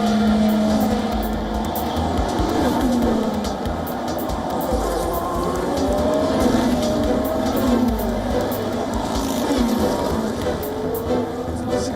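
Formula One race cars at the Miami Grand Prix, a loud continuous roar of high-revving engines with whining pitch sweeps as cars pass.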